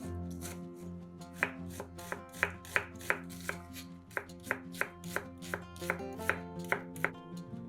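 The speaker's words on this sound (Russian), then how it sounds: "Одну большую луковицу нарезаем кубиками." One large onion is diced into cubes on a cutting board, the knife striking in quick, evenly spaced chops that come close and crisp, with no talking.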